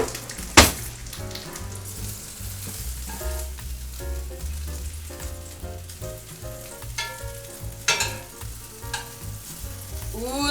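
A squash blossom quesadilla with cheese fries in a pan, giving a close, steady sizzle and crackle broken by occasional louder pops and scraping clatter.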